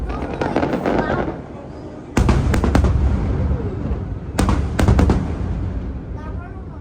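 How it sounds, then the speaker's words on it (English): Festival fireworks over Waikiki in Honolulu go off in quick clusters of sharp booms and crackles, two dense volleys a couple of seconds apart, with onlookers talking beneath the bangs. "These brilliant and spectacular fireworks will be accompanied by the magnificent sound of music"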